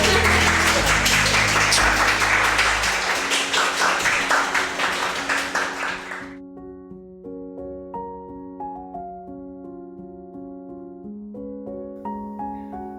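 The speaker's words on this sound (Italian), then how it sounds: "Un applauso al prof." Students applaud a university professor at the end of a lecture in Venice. Dense, loud clapping fills the first six seconds and then stops abruptly, giving way to soft, sparse piano-like notes.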